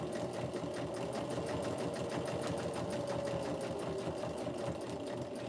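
A sewing machine stitches fabric for a bag without a walking foot, its needle running in a steady, fast, even rhythm of close mechanical clatter and hum for the whole stretch.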